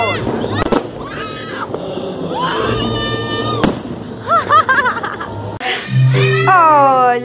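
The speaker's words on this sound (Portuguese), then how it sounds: "tá morrendo de medo dos fogos" New Year's fireworks bursting at a family Réveillon barbecue, sharp cracks and pops scattered among lively voices, laughter and a shrill, whistling tone.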